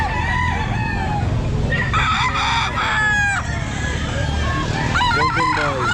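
A young stag rooster at a pet market crows repeatedly in loud, ragged calls, with other birds crowing and clucking nearby under a busy crowd murmur and occasional voices.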